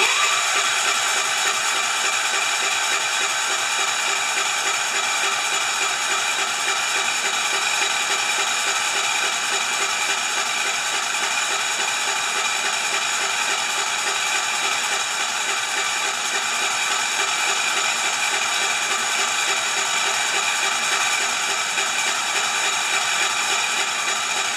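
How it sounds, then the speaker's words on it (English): A Kohler K241 engine cranks over on the starter without ignition, giving a loud, steady mechanical whir that runs unbroken and even throughout, with no voices. "I'm not going to turn on the ignition, I'm just going to turn the engine over."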